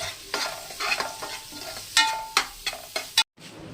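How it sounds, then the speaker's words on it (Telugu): Chicken fried rice ingredients being stirred and fried in a pan, with steady sizzling and repeated scraping stir strokes close up, a few sharper clanks of the utensil against the pan, no talking. "చికెన్ ఫ్రైడ్ రైస్ అనేది చేసేసుకుంటున్నాం ఫ్రెండ్స్"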